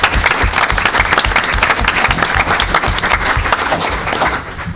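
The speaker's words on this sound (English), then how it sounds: "So this would be a great time to give Mr. Payton and his crew a round of applause for all their prep work." A crowd applauding a crew for their prep work at an indoor event, dense sustained clapping from many hands, loud and steady for the whole stretch.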